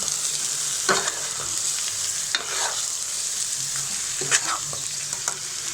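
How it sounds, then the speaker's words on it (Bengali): Polao rice and lentils being stir-fried in hot oil for chicken khichuri, with a steady sizzle broken by several scraping stirs of a spatula, close and fairly loud, no voices. "চালটা দিয়ে দিচ্ছি, তেলের সাথে ভালোভাবে মিশিয়ে দেব।"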